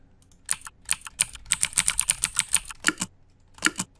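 Software-simulated mechanical keyboard clicks sound as someone types in quick bursts, crisp, close clacks running in a rapid string, then a few isolated heavier key presses after a pause.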